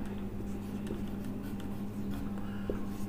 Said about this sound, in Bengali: এবার লিখব সাম্যাবস্থায় দেখো